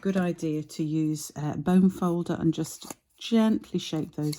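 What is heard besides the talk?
No distinct noise like a dog, phone or traffic.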